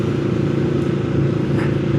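A Yamaha VMAX 1700 motorcycle engine runs at a steady low idle, close by, with a deep even rumble and a faint light clatter. No speech is heard.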